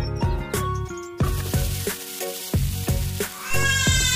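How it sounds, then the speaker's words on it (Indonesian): Spices fry in a pan before being ground, with a bright crackling sizzle broken by repeated sharp knocks and stirring clatter. Loud tonal ringing overlaps the sizzle, and nobody speaks. "goreng dulu ya sebelum aku ulek."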